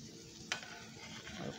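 Raisin pie filling is stirred in a pot, making a quiet, close scrape of a spoon against the pot over a soft, bubbling simmer. A single sharper stroke stands out briefly.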